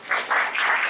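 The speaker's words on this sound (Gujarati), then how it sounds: "ભાઈ મનન માટે તાળીઓ થઈ જાય" A short burst of applause from a seated group honouring a participant, dense hand clapping lasting about a second.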